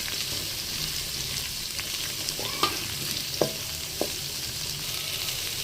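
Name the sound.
onions frying and stirred in a pan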